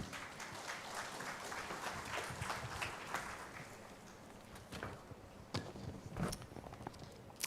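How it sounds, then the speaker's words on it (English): Audience applause at a Puducherry summit, a faint, dense patter of clapping hands that holds steady and then thins into scattered sharper claps toward the end. "Now let's give me a big applause to him."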